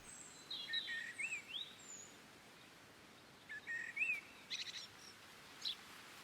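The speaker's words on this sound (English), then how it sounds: "The small bird is an active forager." Faint high chirps and short twittering calls from a small bird foraging in dense foliage in Morocco, coming in scattered bursts over a quiet, hissy outdoor background.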